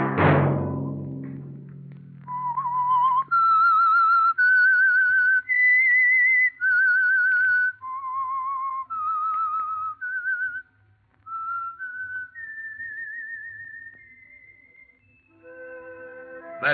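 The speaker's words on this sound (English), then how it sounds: "Let that whistle be your signal for the Signal Oil program, The Whistler" A lone whistler carries the signal tune of The Whistler radio mystery program, a slow, eerie melody of sustained rising and falling notes. It follows a brief low rumble and ends with a short musical sting.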